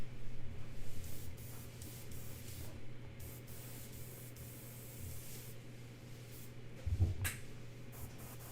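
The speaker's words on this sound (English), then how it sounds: "The airbrush is so dirty that the needle won't close all the way." A dirty airbrush spraying paint with its needle unable to close fully, giving a steady close hiss with faint brief surges over a low hum.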